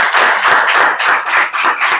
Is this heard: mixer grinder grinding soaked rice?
no